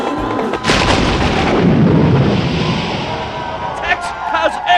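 A loud, rumbling comedic fart-explosion effect from a flatulence sports parody swells into a long booming blast. Talk and crowd noise run beneath it, and a few sharp pops come near the end.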